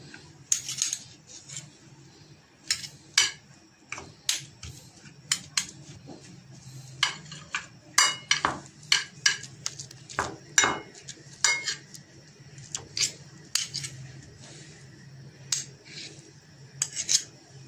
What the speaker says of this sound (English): Now I mix these well.